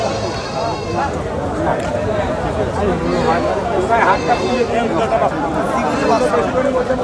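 A Jamunapari male goat bleats at a busy livestock market, its calls mixed into a dense, steady background of crowd chatter and babble.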